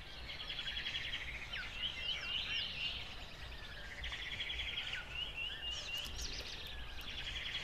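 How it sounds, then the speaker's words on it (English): Birds chirp and trill in short repeated bursts, moderately distant, over a soft, steady lake-shore ambience with no talking. "the ambience here is definitely water we have some birds in there"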